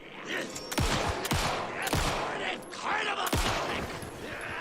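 Gunfire in Alan Wake 2 rings out as several spaced, punchy shots, roughly four loud cracks each followed by a falling echo tail, over a busy game soundscape.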